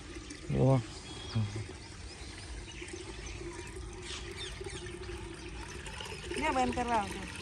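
Water pours and splashes steadily as containers are filled at a farm field, with a couple of louder gushes and people talking nearby.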